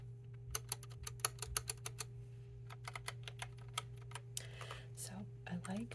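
Rapid clicky keystrokes on a Logitech Pop Keys mechanical keyboard with round keys tap close up in quick bursts, loud against a faint steady hum, with a few softer rustles near the end.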